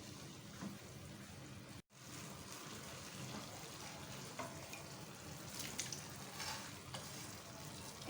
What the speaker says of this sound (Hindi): अब जो इसमें चिकन और वेजिटेबल तैयार करके रखी हुई है वो ऐड कर लेते हैं बीच में।